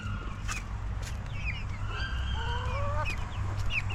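Chickens cluck and call near by while being fed scraps, several short clucks and a rising squawk over a steady low background hum.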